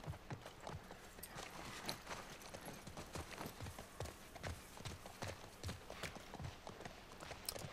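Horse hooves clip-clop at a steady trotting rhythm in The Last of Us video game, close and continuous throughout with no talking over them.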